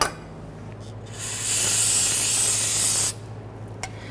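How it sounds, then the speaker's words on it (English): A steady aerosol solvent spray hisses for about two seconds onto a Honda Ridgeline's rear brake area, then cuts off abruptly, followed by quiet and a small click. "I'm going to spray this down with some solvent."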